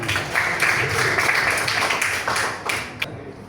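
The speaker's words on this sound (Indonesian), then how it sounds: "kasih tepuk tangan" Classroom audience clapping after group presentations in a coding and artificial intelligence training session, a dense patter of many hands that holds steady for a few seconds before tapering off.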